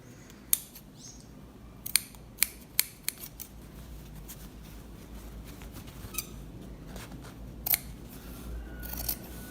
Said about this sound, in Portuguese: Agora a gente vai cortar aqui, ó.